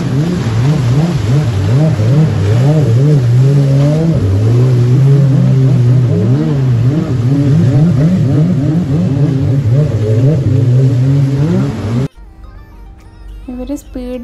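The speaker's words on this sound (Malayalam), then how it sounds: "അപ്പോഴാണ് ബോട്ട് റൈസിംഗ് കണ്ടത്." Speedboats race on the sea off Khorfakkan, their engines a loud, near, continuous drone whose pitch rises and dips as they accelerate. The roar stops abruptly before a quieter ending.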